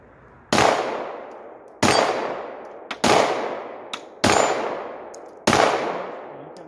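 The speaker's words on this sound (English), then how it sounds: "I want you to shoot one-handed at the stop sign" Five loud single pistol shots from a Holosun 509T-equipped handgun, fired one-handed at a steel stop sign target, each sharp crack with a metallic ring and decay, spaced about a second apart, with no talking.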